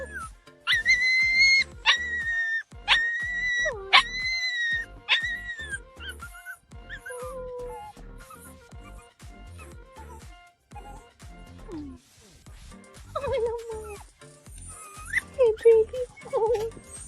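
A rescued dog gives high whimpers and yips in rhythmic rising bursts, then softer whines among scattered knocks and shuffles, ending with louder pleading cries close by.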